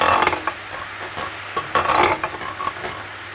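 Peri peri prawns cook in a pan on high heat, crackling and sizzling loudly with fluttering bursts as they are stirred and tossed.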